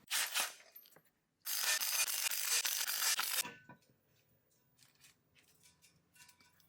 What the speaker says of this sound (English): Let's see if this Milwaukee's up to the task